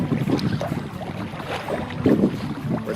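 Canoe paddled across a lake in Algonquin Park toward a beach campsite, soft watery paddle strokes and hull splashes blending with steady wind noise, close and continuous without talk.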